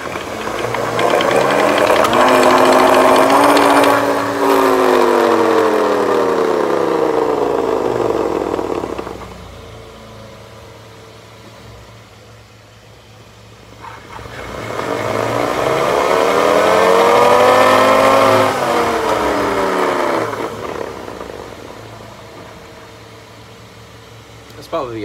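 A car with a broken differential that ran without oil is driven in two long passes, each a loud rising and falling whine over engine noise, with a quieter stretch between them.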